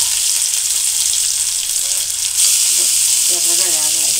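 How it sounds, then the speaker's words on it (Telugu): Onion pieces fry in a pan after mustard seeds, cumin, urad dal and brinjal pieces, making a loud, close, continuous sizzle that brightens midway, with brief stirring clinks. "ఉల్లిపాయ ముక్కలు వేగాయి"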